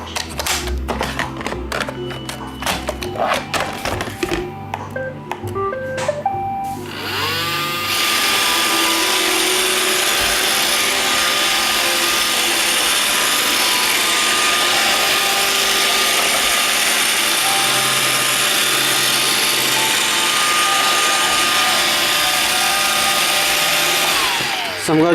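An iRobot Roomba 560 robot vacuum, freshly cleaned and re-lubricated, whirs steadily with a continuous motor and brush drone after some clicking start-up noises, running alone at close range.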